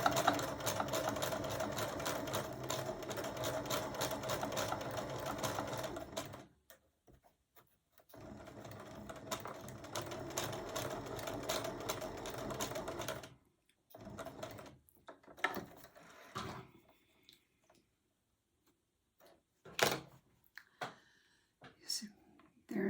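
Sewing machine stitching a quilting seam for a charm pack table topper, going back over the first stitches; steady mechanical whirring bursts stop and start, with quieter pauses and small clicks between runs.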